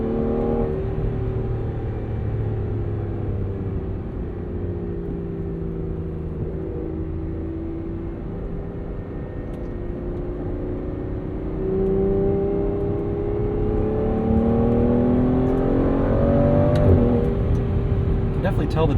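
A 2015 Aston Martin Vanquish pulls hard under acceleration, its engine note climbing steadily and swelling louder over the final seconds, with a heavy low-end rumble and tire and road noise underneath.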